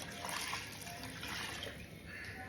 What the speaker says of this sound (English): 4 cups of water.